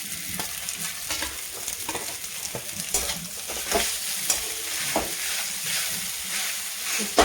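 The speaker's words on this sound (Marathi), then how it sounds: "छान असं मिक्स करून घेऊ।" Mashed potato being stirred into sizzling masala in a pan for aloo paratha, with repeated scraping strokes over a steady close-up fry hiss.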